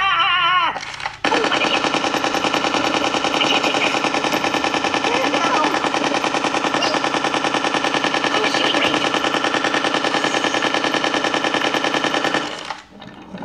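Gunfire shooting in a video game, a loud, continuous rapid stream of shots like a machine gun that runs without a break for about eleven seconds.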